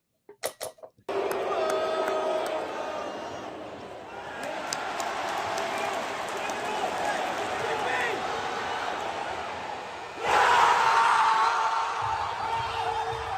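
Large crowd in a played-back recording, a steady wall of cheering and chatter that swells into a louder roar near the end, with people talking over it.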